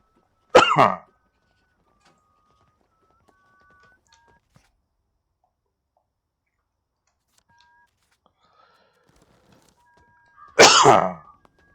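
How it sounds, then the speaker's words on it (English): Two loud, close coughs from a character in the video game We Happy Few, one at the start and one near the end, separated by near silence with faint tones. "Coughing coming."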